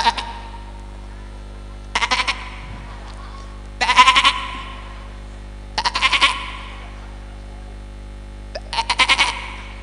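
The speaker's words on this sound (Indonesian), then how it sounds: "Itu suara anak kambing." A young goat bleats five times in short, quavering cries spaced about two seconds apart, close and loud against a quiet background hum.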